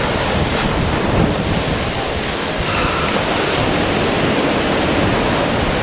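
Loud, steady wind roars into the microphone while waves wash and surge beneath it at Swanage, Dorset, a constant dense rush with no break.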